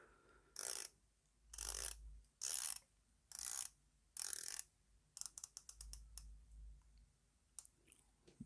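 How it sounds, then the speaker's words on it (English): A homage Seamaster-style dive watch has its bezel turned by hand in five short, crisp bursts of ratcheting clicks, followed by a rapid run of separate ticks, close up and quiet against a near-silent background. "So let's rotate the bezel just a little bit more."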